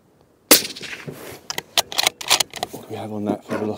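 A single loud, sharp gunshot from a Sako 90 Peak Carbon rifle firing a 150 grain lead core bullet bursts out near the start and decays quickly, followed by clicks and someone talking.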